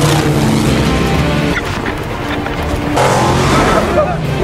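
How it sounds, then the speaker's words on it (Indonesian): Several cars from a film scene close in on a bus during a sandstorm chase, their engines roaring loudly and steadily throughout under dense mixed effects, with a narrator's voice speaking over them. "Kemudian dari arah belakang, beberapa mobil misterius mengincar bus yang ditandai."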